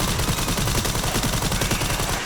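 Rapid SMG gunfire in Resident Evil 9 rattles out as a loud, dense, continuous burst of shots lasting a couple of seconds, with no voices over it.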